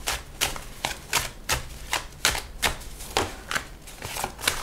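Tarot cards are shuffled and drawn in a quiet room, a run of crisp, evenly spaced slaps and flicks with no talking.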